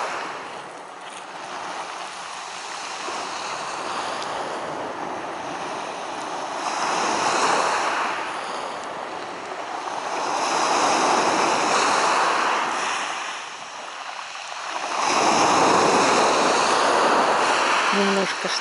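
Rough autumn sea surf breaking on the shore at Lazarevskoe on a breezy day, with swelling roars of waves rising and falling in long surges every few seconds over steady wind noise, fairly close and loud.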